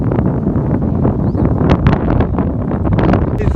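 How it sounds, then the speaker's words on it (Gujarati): Strong storm wind in Porbandar roars and buffets the microphone in loud, uneven gusts, with rustling and flapping throughout. "ફૂલ પવન છે એકદમ."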